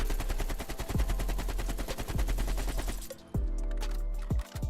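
AK-47 fires fast automatic bursts in Black Ops Cold War, a dense rattle of rapid shots that cuts off briefly and resumes, loud and close with no voices.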